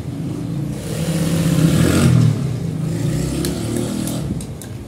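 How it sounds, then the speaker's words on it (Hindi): An electric sewing machine stitches 20-inch palazzo trouser legs, giving a continuous, fairly loud motor whir that swells slightly midway before settling back to a steady hum. "इस तरीके से हम ये लगा रहे हैं सिलाई"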